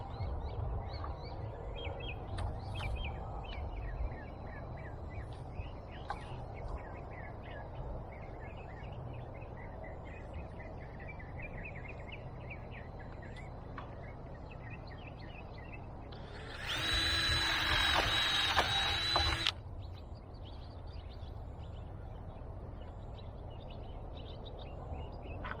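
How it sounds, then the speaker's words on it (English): Power drill boring two holes through a bamboo stake used to support a banana plant outdoors, a short loud burst of a few seconds standing out over steady background ambience with birds calling. "I go ahead and I drill 2 holes."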